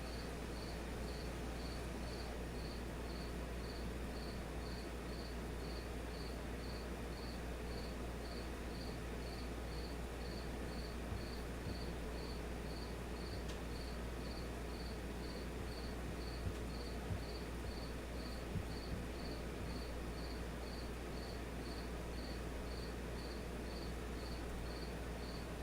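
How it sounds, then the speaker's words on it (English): One cricket keeps up a regular, rapid chirping rhythm for the whole stretch, quiet and unbroken against a faint room hum and a few small taps. "If you guys can hear that cricket chirping"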